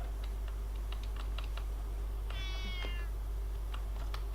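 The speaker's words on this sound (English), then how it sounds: "I can hear a cat." A cat meows once, faint and drawn out, over steady keyboard typing and a constant low electrical hum.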